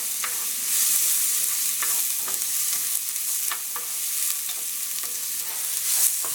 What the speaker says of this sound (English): you're just going to cook your onions for about 3 minutes until they're transparent